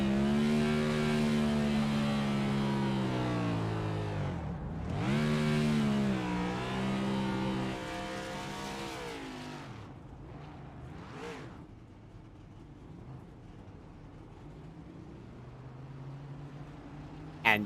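Number 8 race car at a short-track league event revving hard for a victory burnout, loud rising and falling engine harmonics up close for about ten seconds, then fading to a lower distant rumble with a final brief burst.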